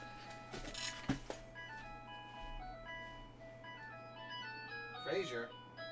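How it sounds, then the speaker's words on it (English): A phone ringtone plays as a melodic, electronic tune at moderate volume over a steady background hum, while a voice talks briefly over it. "Stop calling my phone!"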